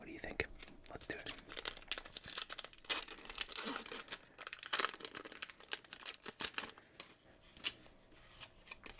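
A Pokémon Charizard booster pack from the Sword and Shield series being crinkled and torn open up close, with dense crackling foil, sharp ripping bursts and intermittent quiet whispered talk.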